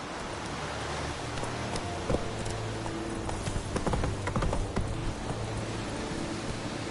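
Roach the horse galloping in The Witcher 3 Wild Hunt on PS4, a steady run of hoof clip-clops over a constant noisy background, with a few sharper hoof hits standing out midway.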